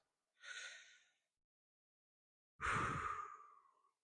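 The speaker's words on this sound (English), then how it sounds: "filling up your lungs with air, not breathing directly from the diaphragm, would look like this" Two separate shallow chest breaths, a short airy intake followed after a pause by a longer, fuller inhale and release, close and quiet.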